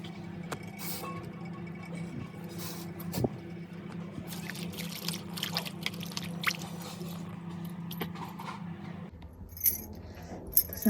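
Rinsing and washing ingredients in water before cooking in a home kitchen, with soft splashes, drips and clinks of utensils over a steady low background hum, no talking.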